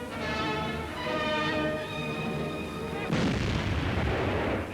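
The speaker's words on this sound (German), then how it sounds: "Leichte Artillerie bereitet ein Stoßtruppunternehmen vor." Light artillery fires on the Murmansk front in wartime newsreel footage, a dense, continuous rumble of booms with a tonal music-like layer underneath that gives way to a harsher burst of noise near the end.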